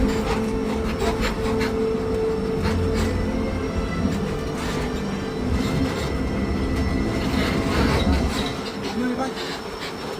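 A Universal Studios Hollywood studio tour tram rolls steadily along its route, a continuous low rumble with rattling and clacking, and faint voices in the background.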